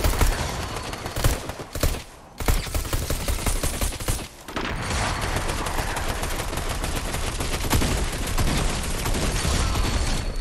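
Sustained rapid gunfire in Fortnite, dense bursts of shots with two brief pauses, loud and continuous throughout with no audible talk.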